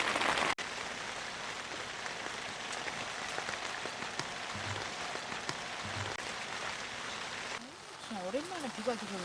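Heavy rain falling at a campsite, a dense steady patter on nearby surfaces throughout, with a brief sharp knock near the start and some faint rustling toward the end.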